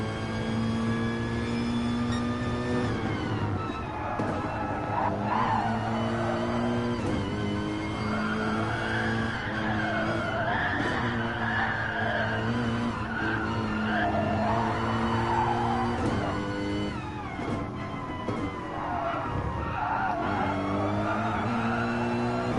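A Gran Turismo racing car slides and skids around the Fuji circuit in a GR3 manufacturers race, engine droning steadily with harmonic whine and tyre scrub throughout, loud and continuous with no voices.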